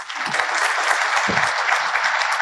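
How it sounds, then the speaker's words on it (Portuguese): An audience gives a short, steady round of applause after a talk, dense clapping that continues evenly for the whole few seconds. "Uma salva de palmas."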